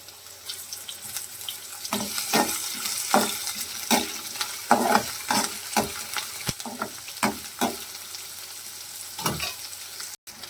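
Onion, curry leaves and green chilli fry in hot oil, sharp sizzling bursts and spluttering crackles rising and falling in an uneven rhythm over a low background hiss, close up and without speech.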